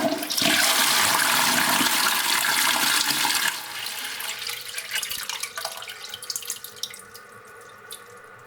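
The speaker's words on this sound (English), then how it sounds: "the sound that I recorded was just toilet flushing" A toilet flushing in a field recording: a loud, close rush of water for about three seconds, then a quieter gurgling refill with trickling and dripping that tails off.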